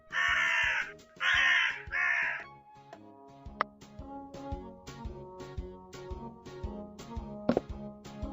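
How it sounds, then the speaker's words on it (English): A cartoon crow in a children's animal puzzle game caws three times in a loud, harsh, evenly spaced burst. Light rhythmic tapping and soft game chimes follow. "Crow."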